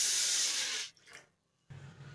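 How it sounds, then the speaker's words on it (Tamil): Water pours into a cooking pot for boiling raw banana, a bright rushing stream that stops, a short pause, then a softer splash resumes. "வாழைக்காய் வேக வைக்கிறதுக்கு நம்ம தேவையான அளவுக்கு தண்ணி ஊற்றிப்போம்"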